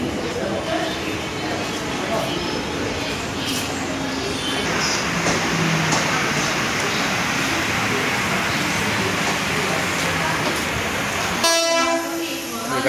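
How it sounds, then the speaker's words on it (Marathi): A Mumbai suburban local train rumbles loudly into the station, its noise steady for most of the stretch before a sharp horn blast near the end, with faint voices in the background. "बघा ट्रेन आले, बसूया आणि कांदिवली स्टेशनला डायरेक्ट"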